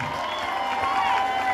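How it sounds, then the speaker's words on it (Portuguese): Concert audience at a forró show applauding a young boy keyboard player, with a steady wash of clapping and crowd noise throughout, moderately loud. "Uma salva de palmas pra esse menino,"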